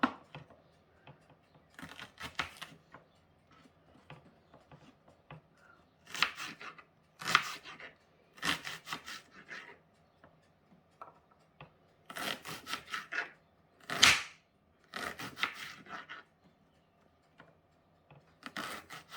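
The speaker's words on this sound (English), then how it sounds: "Cut up your onion." Irregular knife chops on a cutting board as an onion is cut for pork curry, short bursts of quick strokes separated by pauses, close and fairly quiet.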